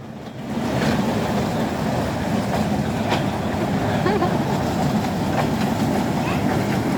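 A small amusement park ride train rumbles along steadily with a low, continuous roar and faint clattering, close and loud throughout with occasional voices in the background.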